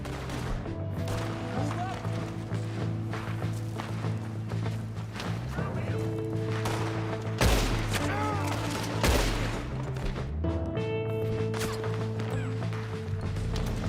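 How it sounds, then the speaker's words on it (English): Repeated gunfire cracks through a Red Dead Redemption 2 story-mode shootout, irregular shots near and far over a sustained musical score, with characters talking in between. "We're gonna have to shoot our way up there."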